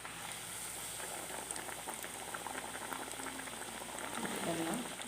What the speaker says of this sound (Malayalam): എണ്ണ ചൂടാൻ വെച്ചിട്ടുണ്ട്. നമുക്കിതിന് ഓരോന്നും പൊരിച്ചെടുക്കാം.